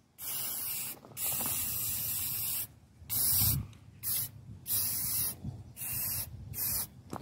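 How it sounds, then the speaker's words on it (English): A spray paint can lays a base coat onto hunting gear in about seven short hissing bursts, each separated by a brief pause, heard up close and alone. "I just spray a nice base coat with the pan."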